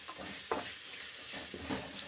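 Tender tamarind leaves with ginger and garlic are stirred in a pan, the spoon scraping in a few quick strokes over a soft, continuous sizzle, close and fairly quiet.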